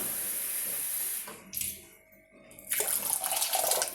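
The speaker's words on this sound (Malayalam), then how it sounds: "രണ്ട് കപ്പ് വെള്ളം ഒഴിക്കുകയാണ്" Two cups of water are poured into sugar in a pan to make syrup for a Diwali sweet: a steady splashing stream, then a pause and a second louder, closer pour.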